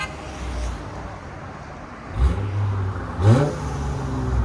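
A Mercedes E 400 with a 3.0L twin turbo V6, a stage 2 tune and an X-pipe or Y-pipe exhaust is revved twice, each blip rising sharply over a steady idle.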